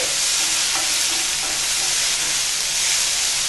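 Green chili paste fries in a pan with a steady, dense sizzle and faint stirring scrapes, close and continuous with no voices.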